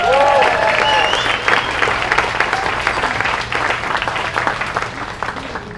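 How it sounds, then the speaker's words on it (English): Audience applause for students at a gala fencing skit, sustained clapping from a crowd that starts loud and gradually thins toward the end. "How about a little applause for all our students?"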